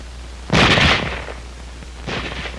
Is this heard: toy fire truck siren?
no